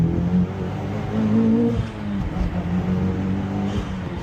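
A 2011 Mitsubishi Evo X engine in second gear surges on and off boost, a steady close engine drone whose pitch rises and dips in uneven waves with no talk over it.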